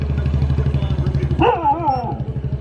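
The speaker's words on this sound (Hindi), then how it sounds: "पता नहीं किसको भौंक रहा है." A single dog barks briefly, its call rising over the steady, loud drone of a bus engine inside a sleeper bus hotel.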